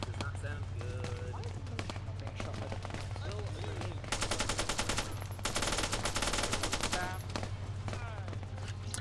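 Rapid bursts of automatic gunfire crackle in a video game firefight, growing louder and denser midway, under near-constant talking from players.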